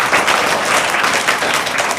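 Steady applause fills a primary-school gathering at a government middle school in Barwani, Madhya Pradesh, the clapping dense and continuous for two seconds with no voices over it.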